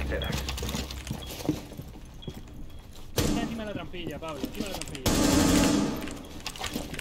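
Gunfire in a Rainbow Six Siege match, with bursts of rapid shots and scattered single cracks mixed with in-game clatter and movement noises, heard at moderate distance under a player's voice calling out.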